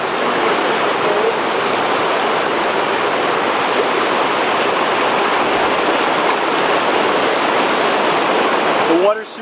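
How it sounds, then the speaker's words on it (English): Water flowing in a cold river swimming hole, a loud, steady broadband rush close by that holds unbroken for several seconds before cutting off. "swimming in this amazing river or lake, whatever you want to call it, swimming hole"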